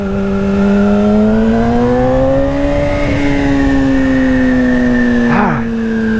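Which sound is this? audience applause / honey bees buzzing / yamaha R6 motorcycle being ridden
yamaha R6 motorcycle being ridden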